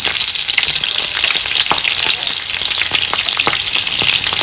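Green chillies fry in hot oil in a wok, a loud, steady sizzle with crackling pops throughout, no talking.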